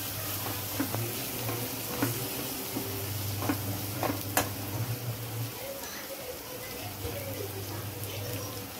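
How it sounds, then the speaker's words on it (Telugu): Coriander and cumin powders fry in a pan with a steady sizzle, broken by occasional stirring scrapes and light ticks, heard up close and fairly quietly. "ధనియాల పౌడర్, జీలకర్ర పౌడర్ వేసుకున్నామండి. ఈ కొద్దిగా పచ్చివాసన పోయేంత వరకు వేయించుకున్నాం."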